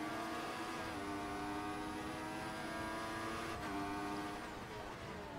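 Race cars in a simulated Australian race, including a Lotus and a McLaren, their engines droning in a steady high whine with shifting pitch as they run close together on track.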